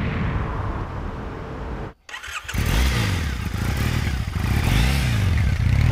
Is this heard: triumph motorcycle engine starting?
yes